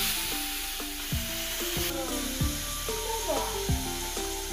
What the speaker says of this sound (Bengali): তো 4টা সিটি দেওয়ার পরে আমি এখন ঢাকনাটা একটু খুলে নেব, খুলে একটু নাড়াচাড়া দিয়ে দিব